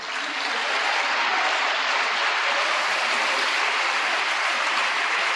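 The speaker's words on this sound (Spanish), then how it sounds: "Un aplauso para él." Church congregation applauding at a sermon, a dense, steady wash of clapping that stays loud and even throughout with no talk over it.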